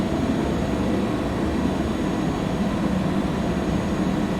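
An Airbus A300 in a flight simulator game builds takeoff thrust, producing a steady, loud, broadband engine roar that holds evenly throughout without breaks.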